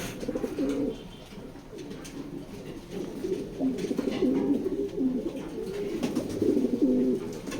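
A male racing pigeon at a racing loft gives repeated throaty coos in a close, rhythmic series, with soft background noise and no talking.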